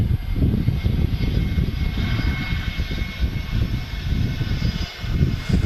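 A Jet2 Boeing 757 airliner at Manchester Airport roars steadily with a broad, loud engine rumble that persists throughout without pause.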